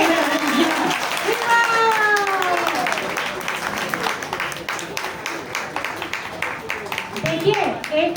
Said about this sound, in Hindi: ताली तो बजा दीजिए।